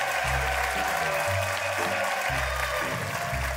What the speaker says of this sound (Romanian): Aplauze pentru Vlad Amarandei.